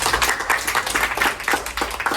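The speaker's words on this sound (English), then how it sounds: "Give yourself a clap." A classroom of students clapping for themselves, a short burst of uneven, moderately loud handclaps close by.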